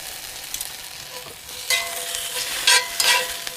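Potatoes and pork chops sizzle and crackle in a pan at a campsite in Wayne National Forest, with a steady hiss and a few louder bursts of spattering, close by, no voices.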